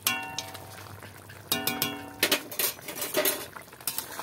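Egg biryani masala gravy stirred in a pot, with a spoon clinking and scraping against the metal in quick bursts, fairly close and moderately loud, no talking.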